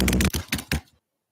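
Several quick bursts of keystrokes on a keyboard or typewriter, loud and close, clustered in short runs before stopping abruptly into silence.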